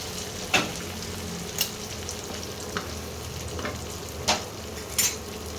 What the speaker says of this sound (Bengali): পেঁয়াজ আর ক্যাপসিকামটাকে একটু লাল লাল করে ভেজে নিতে হবে